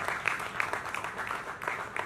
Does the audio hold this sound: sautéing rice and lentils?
no